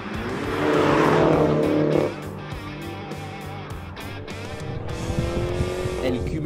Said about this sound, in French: la sonorité du moteur et du crépitement à l'échappement